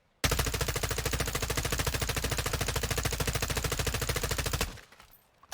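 A 60-round magazine rifle in Warzone 2 firing one long, rapid full-auto burst of evenly spaced shots for about four seconds, loud and close, then stopping abruptly.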